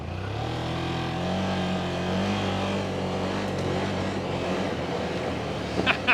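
A 2025 Can-Am Outlander XT-P 1000R ATV in two-wheel drive and sport mode accelerates on a trail, its engine holding a steady, loud, rising drone with tonal harmonics throughout.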